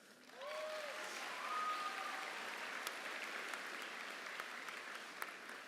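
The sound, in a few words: graduating students applauding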